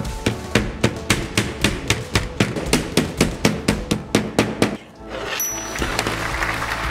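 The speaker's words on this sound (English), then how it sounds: "Insert these silicone strips and hammer them into place." A steady run of sharp hammer taps, about three per second, driving silicone strips into a textile frame at close range, then stops, leaving a faint hiss.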